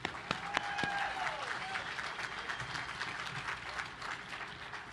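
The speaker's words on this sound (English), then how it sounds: "Big round of applause." Applause from a crowd at a destroyer commissioning ceremony, a continuous wash of clapping with a few sharper claps and some voices mixed in, steady at moderate level.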